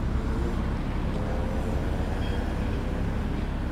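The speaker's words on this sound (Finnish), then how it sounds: "Tosi kova liikenne näin aamusta." Heavy morning road traffic on an icy day makes a steady, unbroken rumble of passing cars and heavier vehicles, moderately loud and continuous with no individual passes standing out.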